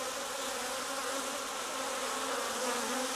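A dense, steady buzzing of many bees from a just-opened swarm trap taken from the forest, loud and continuous without a break.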